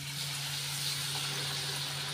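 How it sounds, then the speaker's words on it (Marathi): Batter-coated potato and palak bhaji frying in hot oil, a steady dense sizzle that stays loud and even from start to finish, close by and with no talk over it. "गरम गरम तेलामध्ये पटकन सोडून घ्यायचं"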